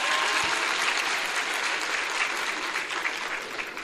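Audience at a medical school graduation ceremony applauds a married couple from the graduating class, loud, dense, continuous clapping from a large crowd that slowly eases off toward the end.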